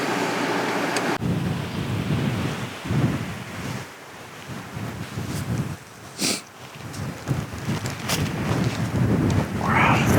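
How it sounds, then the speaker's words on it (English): Strong wind roars across a Montana hillside during a deer hunt, buffeting the microphone in loud, uneven gusts. "It's very windy."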